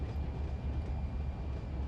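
Freight train rolling steadily along in Run 8 Train Simulator, a heavy 65-unit consist on the Seligman Sub, giving a continuous low rumble with faint rail clatter and no voices.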